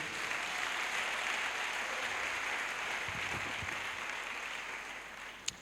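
Church congregation applauding during a healing and salvation weekend service in Adjamé, a dense continuous clapping from a large crowd, steady and fairly loud throughout, tapering slightly toward the end with one sharp knock near the close.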